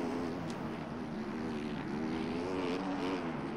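Motocross bike engine in the MX Bikes racing game, revving steadily as the rider rolls on the throttle off the start gate, a continuous buzzing drone with slight pitch swells throughout, loud and alone.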